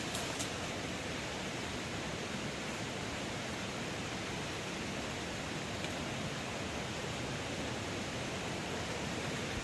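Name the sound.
waterfall on a mountain trek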